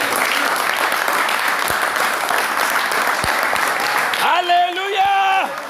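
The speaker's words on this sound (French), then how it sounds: "Applaudissons pour le Seigneur." Church congregation clapping steadily and loudly for several seconds during a French-language service, with a voice rising over the applause near the end.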